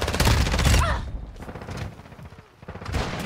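Loud, close bursts of automatic gunfire in the video game Modern Warfare 2, a dense rattling volley that fades out, then another burst near the end, with no talking over it.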